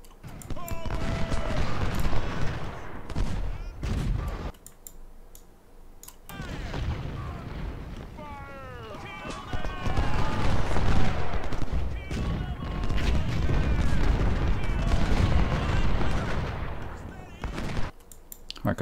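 Musket volleys and artillery fire in Ultimate General: Civil War at the Battle of Cold Harbor, a dense, continuous crackle of gunfire with heavy booms, swelling and dipping throughout, with someone talking over parts of it.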